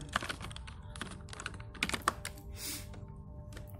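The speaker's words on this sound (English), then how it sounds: "select the text tool and type in the text" Keys clatter on a computer keyboard while text is typed into a video-editing program, bursts of close, crisp keystrokes with short pauses between them.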